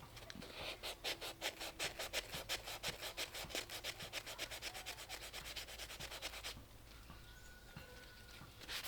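Rapid, rhythmic rasping strokes of a sanding block scrubbing back and forth across a metal garden tool blade to remove debris and buildup, steady and close, then a brief quieter pause.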